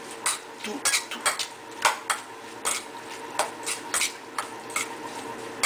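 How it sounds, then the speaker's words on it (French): A utensil stirs a seasoned anchovy mixture in a dish, giving repeated close scraping and clinking strokes in an uneven rhythm. No one talks over the stirring. "Vous mélangez tout."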